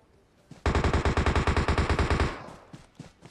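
Loud sustained burst of automatic gunfire in PUBG Mobile, roughly twenty rapid evenly spaced shots lasting about two seconds, then a few scattered fainter shots trailing off.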